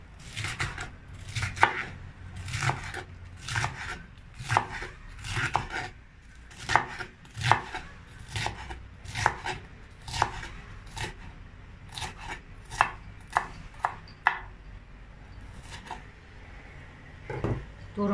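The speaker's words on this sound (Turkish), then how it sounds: "Fazla ince olmayacak şekilde bunları da bu şekilde doğrayalım." Close, steady knife chopping of red kapya and green peppers into not-too-fine pieces on a cutting board, a quick run of sharp rhythmic cuts that slows and grows sparser toward the end, with no talking.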